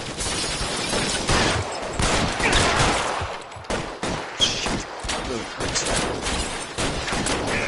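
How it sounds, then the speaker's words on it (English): Gunfire during a shootout in L.A. Noire, with dense, irregular volleys of shots, some near and some farther off, and voices talking in between. "Shots fired, officer needs help."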